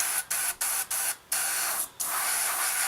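An airbrush sprays green paint onto a Hobbycraft 1/48 P-36 model plane, giving a close, loud, airy hiss in bursts broken by five brief pauses as the trigger is released and pressed again.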